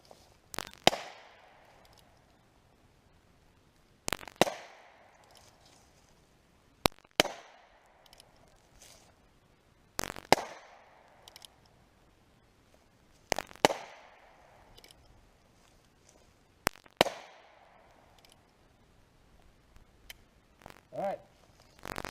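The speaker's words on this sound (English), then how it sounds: "take the safety off, because I'm ready to shoot now. I'm going to put 6 rounds through this thing." A Heritage Rough Rider .22 revolver fires six sharp, separate shots at a slow, steady pace, each crack ringing out clearly with a short decay into near silence between rounds.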